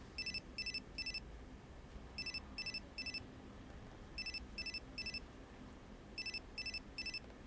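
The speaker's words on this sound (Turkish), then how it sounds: "telefonun çalıyor" A telephone rings in regular bursts of three quick trilling pulses, repeating four times at a steady pace, faint against a low background hum.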